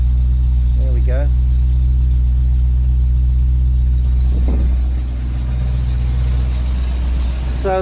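A Land Rover Defender with a GEMS V8 conversion idles steadily and smoothly, running slightly rich, a loud even low rumble with brief background voices over it.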